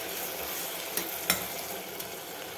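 Medium-sized tomatoes cook in oil in a pan for a millet tomato bath, a steady bright sizzle broken by a few sharp stirring clicks and scrapes of a spoon, close and moderate.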